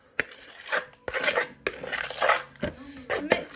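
A spoon scraping and stirring vanilla extract into plain yogurt in a pot for a chocolate dessert, giving repeated rasping strokes with brief pauses between them, close and fairly loud.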